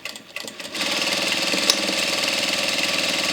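A sewing machine backstitches a satin bonnet casing, starting with a few short stop-start bursts and then settling into a loud, steady, rapid mechanical hum.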